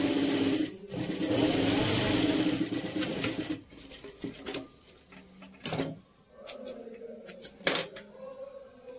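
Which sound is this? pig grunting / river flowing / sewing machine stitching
sewing machine stitching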